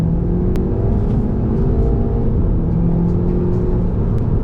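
A stock 2010 Volkswagen Golf GTI MK6 drives with a steady low rumble and rising engine tones as it pulls, heard from inside the car with no talking.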